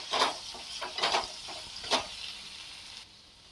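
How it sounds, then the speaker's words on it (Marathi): Finely chopped tomatoes mixed into cooking potatoes for aloo palak, with several bursts of stirring and sizzling in the first two seconds that fade to a quieter simmer, close by, no speech. "आता आपण त्याच्यामध्ये हे बारीक चिरून घेतलेले टोमॅटो घालून घेऊ मिक्स करूया"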